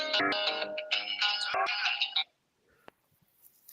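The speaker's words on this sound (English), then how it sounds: "My phone ringing." A phone ringtone playing the song Sweet Home Alabama, a loud melodic tune for about two seconds that cuts off abruptly, followed by quiet room sounds and a faint click.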